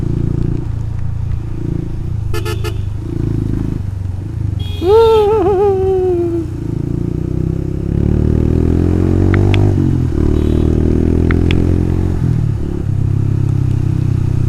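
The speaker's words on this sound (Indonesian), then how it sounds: "Akhirnya saya motoran lagi setelah berapa hari hujan ini?" A motorcycle engine runs steadily up close with a low drone, brief clatter and a rising whine partway through, mixed with road and wind noise, riding in the rain.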